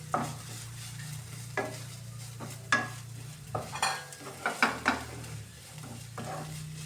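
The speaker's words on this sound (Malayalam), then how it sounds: "വാടി വന്ന മുരിങ്ങാപ്പൂവിലേക്ക് നമുക്ക് അരപ്പ് ചേർത്ത് കൊടുക്കാം. നന്നായിട്ടൊന്ന് മിക്സ് ചെയ്യാം." Drumstick flowers and ground coconut paste stirred together in a pan for thoran: a series of distinct scraping strokes, irregular and growing busier toward the end, over a low steady hum and faint sizzle.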